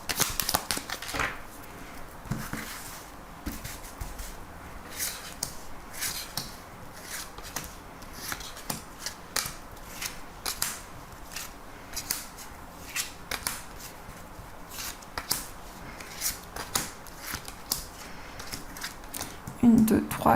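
Tarot cards are shuffled and drawn with soft, rapid papery riffles and flicks close by, while someone talks quietly in French over them.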